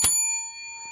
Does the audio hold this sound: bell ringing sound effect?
yes